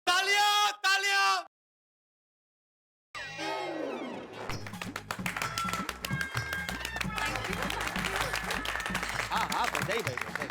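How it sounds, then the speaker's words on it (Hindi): Studio audience applause fills a sitcom set, a dense, steady clapping roar with scattered whoops and taps, rising after a short gap of silence and sustained to the end. "तालियां तालियां।"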